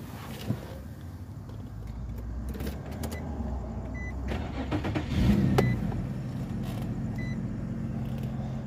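A Nissan car is started after a repair for fault P2127: a short starter whir and catch, then a steady low engine idle close by, with a few clicks and no voices.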